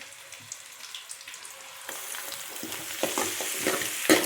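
Green chillies with crushed ginger and garlic frying in oil for a fish curry, a soft sizzle that swells into louder crackling and spattering as the pan is stirred, with scraping stirs near the end.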